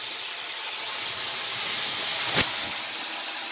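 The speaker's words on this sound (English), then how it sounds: "I have it on some high heat, frying up" Battered chicken frying in hot oil over high heat gives off a steady, loud sizzling hiss that fills the whole stretch, with one brief sharper crackle partway through.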